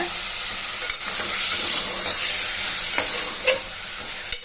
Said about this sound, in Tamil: நல்லா எண்ணெயிலே கறியை வந்து வதக்கி விடுங்க